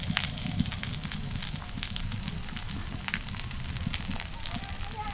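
Puffed rice snack with carrot and coriander frying in hot oil, a steady close sizzle and crackle with scattered sharp pops running throughout, no talk.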